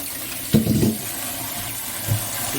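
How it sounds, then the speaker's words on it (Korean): Tap water runs into a bowl for soaking dried seaweed (miyeok), a short gushing burst followed by a second brief splash, close and clear with no talking. "물을 받아서 미역에 2인분을 넣고"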